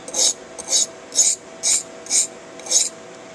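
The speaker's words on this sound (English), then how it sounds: "just blasting that edge down, so I'm going to elevate the spine a little bit, grind off the bulk of it" A knife edge is ground on a Norton Econo sharpening stone in six even, raspy strokes, each a short gritty scrape about half a second apart, heard close and alone.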